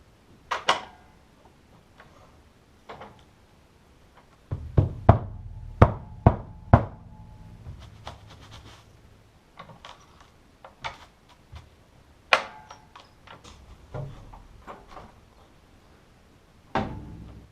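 An Aquarian Force I ported bass drumhead struck without a kick pad, delivering scattered single and clustered thuds with short decays, some strikes sharper and louder, separated by quiet gaps.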